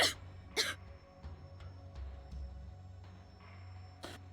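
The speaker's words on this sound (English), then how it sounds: "Moeka gave a painful cough and spit up some stomach fluid mixed with blood." A character in the video game Steins;Gate 0 coughs painfully: two sharp, rough coughs close together at the start, then one more after a pause. The coughs are fairly faint against a quiet background, with no talking.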